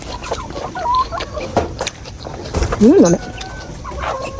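Chickens in a small backyard coop cluck and squawk up close in short, irregular bursts, including one louder rising cackle, while someone speaks briefly nearby.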